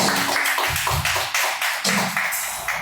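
A church congregation claps loudly during worship, strong rhythmic group hand claps at a steady beat, close and full, with no speech.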